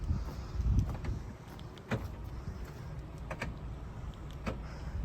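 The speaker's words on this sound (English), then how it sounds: "The car locks and unlocks." Central locking on a Volkswagen Golf GTI MK5 clunks several times as it locks and unlocks, sharp mechanical clicks spaced apart over a faint outdoor background.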